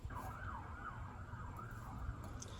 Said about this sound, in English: Almost never hear sirens around here.